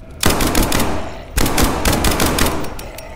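Rapid bursts of automatic gunfire from a video game battle against anomalies, loud and close, with two dense volleys separated by a brief pause.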